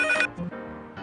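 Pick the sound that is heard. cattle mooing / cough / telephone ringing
telephone ringing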